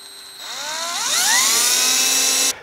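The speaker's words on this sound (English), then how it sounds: "I'm just going to drill a shallow hole, probably no more than an eighth of an inch deep." A small power drill spins up, its whine rising in pitch, then runs at high speed for a second before stopping abruptly, drilling a shallow hole for a side fret marker dot on a Precision Bass guitar neck.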